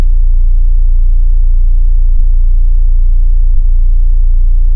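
A loud, sustained 808 bass tone run through Fruity Fast Distortion in FL Studio, holding a steady low drone with a little fuzz in the upper range and two brief glitches where the note retriggers, with no voices.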